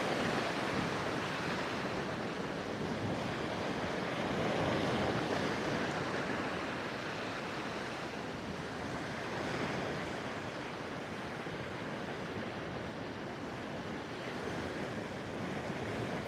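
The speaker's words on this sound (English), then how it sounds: "I love the sound of the waves," Ocean surf rolls continuously onto a beach, a steady broad wash of breaking waves with some wind buffeting the microphone and no voices.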